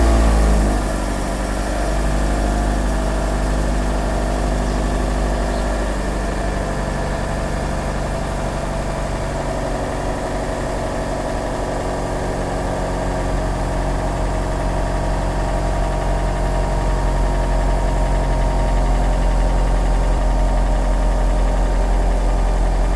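A 2009 Honda Civic engine idles after a cold start, a loud, steady hum with a low rumble close by that runs evenly throughout with no speech.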